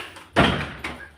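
A door is shut with a single dull thud, followed by a softer second knock, both fairly close against a quiet background.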